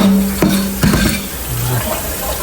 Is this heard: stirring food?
yes